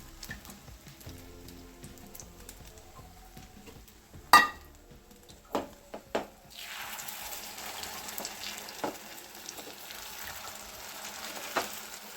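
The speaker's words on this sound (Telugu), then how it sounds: "ఇప్పుడు దీంట్లోకి మనం ఆల్రెడీ ప్రిపేర్ చేసి పెట్టుకున్న ఎగ్ బ్యాటర్ ఏదైతే ఉందో అది ఈ హీట్ అయిన ఆయిల్లోకి వేసేసుకోవాలి" Egg batter for an omelette hits hot oil with a sudden loud burst of sizzling, then keeps frying in a steady crackle punctuated by a few sharp pops and clinks, with no one talking.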